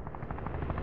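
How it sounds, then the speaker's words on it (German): A helicopter in the VR battle game Virtual Battlegrounds thumps with rapid rotor pulses over a dense engine drone, steady and moderately loud in a brief burst. "Ich glaube, das ist sein Heli."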